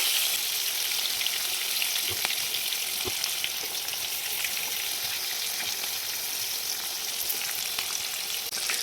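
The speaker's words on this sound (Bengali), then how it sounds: "পটলগুলো লাল লাল করে ভাজা হয়ে গিয়েছে।" Pointed gourd (potol) pieces frying in hot oil, browning in a covered pan, give a steady close sizzle and crackle with a few brief pops throughout.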